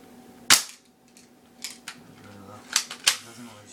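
An M4 Stinger airsoft gun fires a few sharp, close snapping shots, spaced unevenly over a few seconds, each a crisp crack with a short tail.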